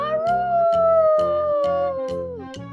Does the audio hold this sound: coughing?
no